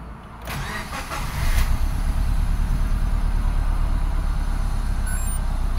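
A 2007 Subaru Forester without turbo starts up, the crank catching into a steady engine, then settles into a loud, continuous idle close by with no talking.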